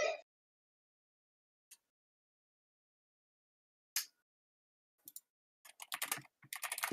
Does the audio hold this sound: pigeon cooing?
no